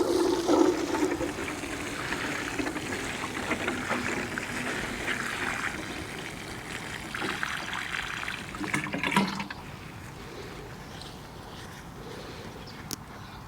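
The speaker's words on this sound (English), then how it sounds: "I'm going to get water and water it in to make sure that the soil is all settled in" Water poured from a container onto the soil around a newly planted peony, a steady splashing trickle with brief louder gushes, then quieter dribbling toward the end, no talking.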